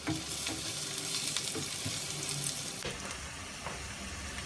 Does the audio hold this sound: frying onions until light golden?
yes